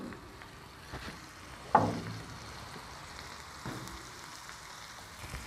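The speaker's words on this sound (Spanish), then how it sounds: "Lo voy a dejar que se fría muy despacito" Garlic and onion frying slowly in a pan give a faint, steady sizzle with soft crackles and one sharper clatter near the start.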